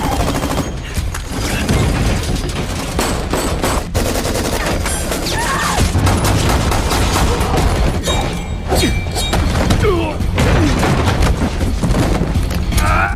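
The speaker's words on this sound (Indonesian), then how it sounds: "terjadilah baku tembak" Film gunfight with dense bursts of gunfire, booms and thuds, rapid shots cracking over a continuous loud mix of mechanical clatter and impacts throughout.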